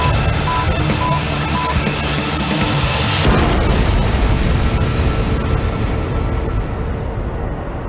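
A bomb explosion in Lebanon bursts into a loud, sustained roaring rumble with crackling debris that gradually fades, following a brief stretch of steady tones.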